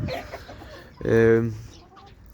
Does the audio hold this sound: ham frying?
no